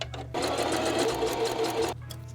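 A sewing machine stitches thick bikini fabric in one steady, close burst of about one and a half seconds, with quieter motor hum before and after.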